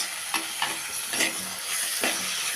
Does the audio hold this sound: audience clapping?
no